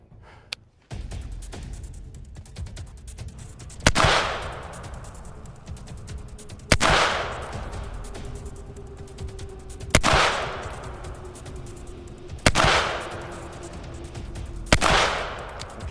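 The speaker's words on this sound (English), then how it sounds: "5 shots standing first," Five slow, evenly spaced gunshots fired standing at a 25-yard target with a pistol wearing an Aimpoint sight, each a loud sharp crack followed by a lingering outdoor echo.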